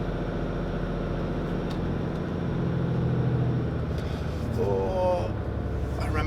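An HGV truck drives off-road on wet ground at a wind farm, a steady low diesel engine drone heard from inside the cab with a faint rising whine near the end.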